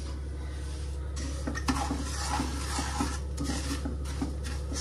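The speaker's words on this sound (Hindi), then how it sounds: "आई थिंक घी गर्म हो गया है और इसमें डाल देते हैं सूजी।" Semolina is tipped into hot ghee in a pan for sweet sooji halwa, giving a soft steady sizzle with scattered light scraping and clinks of a utensil against the pan, under a constant low hum.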